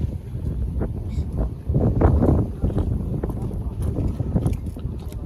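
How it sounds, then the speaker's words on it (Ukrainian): Gusty wind at an outdoor car market in Lutsk buffets the microphone with low rumbling bursts that rise and fall, loudest in the middle, with no clear voices. "Ну, вітер сьогодні, так, да, вітер не маленький."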